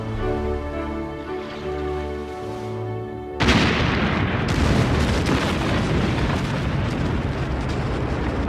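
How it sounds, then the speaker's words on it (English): A loud, sudden explosion representing the USS Maine blowing up cuts in after a sustained low musical drone, followed by a dense, roaring rumble that holds steady for several seconds. "And the USS Maine blows up."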